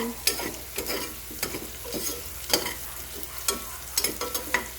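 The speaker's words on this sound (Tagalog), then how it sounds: "igigisa lang natin yan" Onions and chili sautéing in a pan, a steady sizzle with repeated scraping and stirring strokes of a utensil at close range, no talking.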